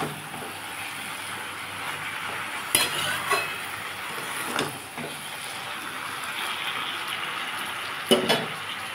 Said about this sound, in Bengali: দিয়ে এটাই ভালো করে একটু নাড়বো